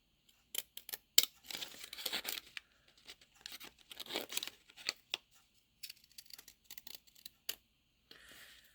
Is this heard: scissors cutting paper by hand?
yes